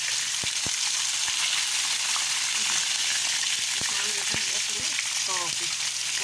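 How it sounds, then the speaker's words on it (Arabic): Fish frying in a pan of hot oil, a steady dense sizzle running throughout with scattered sharp pops and crackles, close and loud, no talking. "خدوا بالكم كويس قوي من الزيت"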